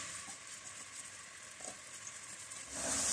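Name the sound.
chopped onions frying in hot oil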